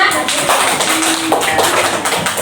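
Continuous dense clapping from a group of children in a classroom lesson, fast and overlapping, fairly loud and close, with a voice faintly mixed in.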